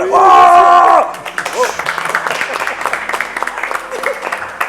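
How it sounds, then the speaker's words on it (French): Thin audience applause at a live game show, scattered claps continuing after a loud voice, sparse and fading under talk. "Les applaudissements sont de moins en moins nourris"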